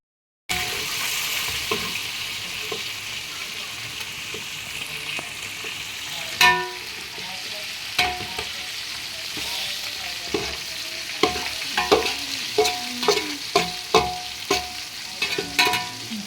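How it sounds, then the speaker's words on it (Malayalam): Sliced onions sautéing in a pan on a gas stove, a continuous soft sizzle with intermittent clicking stirs and scrapes of a spoon growing more frequent toward the end. "പിന്നെ സവോളൊക്കെ വഴറ്റാനായിട്ട് ഞാൻ ഗ്യാസിലാണ് വെച്ചേക്കണത്"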